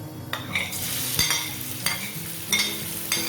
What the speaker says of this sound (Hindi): अब मैं इसमें डालूंगी चॉप की हुई प्याज